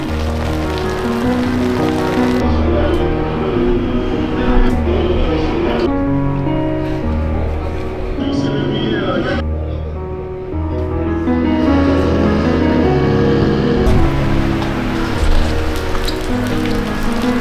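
Rain pours during a hill climb race at Marchampt, a loud, continuous hiss over a steady low humming drone.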